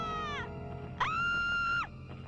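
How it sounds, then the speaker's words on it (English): Agonised screaming from an enemy set on fire in the Aliens vs Predators video game: two drawn-out, high wailing cries, the second louder and longer, close and alone over a low game background. "Listen to those horrible screams."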